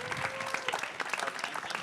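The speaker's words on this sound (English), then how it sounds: "give Sean Glass and Jason another amazing round of applause" A small audience at a music-video industry panel in New York claps in a brief, steady round of applause, fairly faint and even, with no talk over it.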